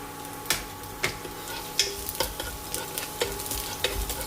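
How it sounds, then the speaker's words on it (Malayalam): Chopped garlic fries in hot ghee. A soft, steady sizzle runs underneath, broken by repeated scraping clicks as a spoon stirs the pan. "അതിലേക്ക് 4 വെളുത്തുള്ളി അല്ലി ചെറുതായി അരിഞ്ഞത് ചേർക്കാം, അല്ലെങ്കിൽ ചതച്ച് ചേർക്കാം."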